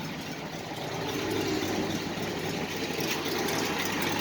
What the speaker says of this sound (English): Just sitting there idling like no one's business.